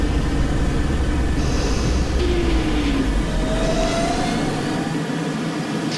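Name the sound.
subway train running in OpenBVE train simulator game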